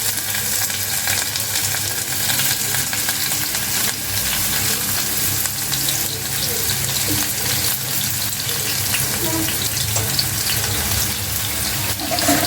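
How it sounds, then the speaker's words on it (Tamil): Chopped onions frying in groundnut and sesame oil for a North Madras sangu (conch) curry, a steady loud sizzle throughout with occasional stirring scrapes. "நான் வந்து நறுக்குன வெங்காயத்தை போட்டுக்கிறேன்."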